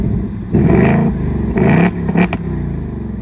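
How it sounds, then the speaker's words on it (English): A 2024 Ford Mustang GT V8 revs up briefly on its own after remote lock, with two rising engine bursts close by over a steady idle rumble and no talking. "you do unlock and then lock, and then it revs it up to like 2K RPM"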